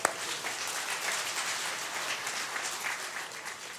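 An audience at a religious gathering at Pandokhar Sarkar Dham claps in a soft, continuous patter that stays faint and even throughout, with no talking over it.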